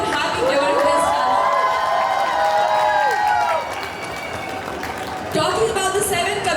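An audience applauds and cheers at a mobility expo closing ceremony, the clapping steady and fairly loud, easing slightly midway before picking up again.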